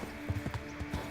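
Horse hooves clip-clop at a steady walking rhythm on a dirt path in the medieval video game Kingdom Come: Deliverance, close and moderately loud, with about six distinct beats and no talking.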